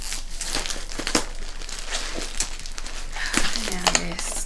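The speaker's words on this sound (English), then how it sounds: "Cut this little tape bit here." Tape on a mail package is cut and torn, producing crinkling, rustling plastic sounds up close while a voice talks over it.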